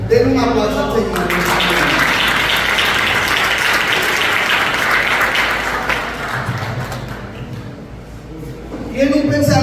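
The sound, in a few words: congregation applause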